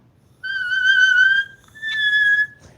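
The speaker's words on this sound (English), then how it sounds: "I just did a whistle note for you" Two sustained high whistle-register vocal notes, the first held about a second, a brief pause, then a second slightly higher note, clear and alone.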